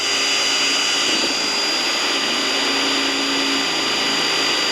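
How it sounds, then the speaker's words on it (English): A power drill bores a new center hole in an RV's rear wall for a Haloview BT7 backup camera on a Winnebago View 24G, giving a loud, steady, close whine that holds without a break. "I'm going to drill a new center hole here just below the existing hole"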